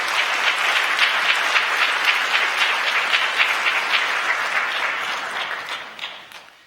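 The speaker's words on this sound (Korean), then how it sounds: "여러분들 환영의 박수 부탁드리겠습니다." A church congregation applauds to welcome four new members at a Sunday service, a dense, even wash of many hands clapping that holds steady for several seconds, then thins and fades out at the end.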